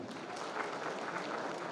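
An audience at a government property-card distribution event gives a round of loud applause, sustained, even clapping from many hands for just under two seconds.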